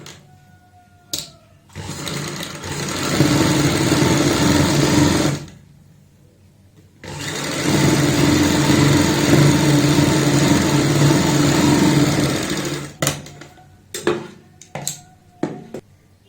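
Sewing machine stitching pintucks into kurti fabric, two long steady bursts of rapid whirring stitching separated by a pause, close and loud, followed by short clicks and handling noises.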